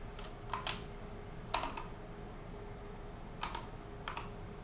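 Short bursts of computer keyboard typing on a Linux machine, a few quick clusters of keystrokes separated by pauses, close and fairly soft over a steady low hum.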